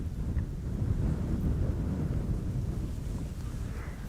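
Heavy wind buffets a camera at Schiphol Airport, making a continuous low rumble that churns steadily and drowns out other sound.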